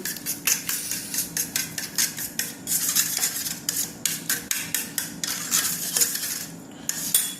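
Chicken pieces mixed with egg and salt in a bowl, utensil clinking and scraping against the bowl in a steady repeated rhythm, close and fairly loud with no talking.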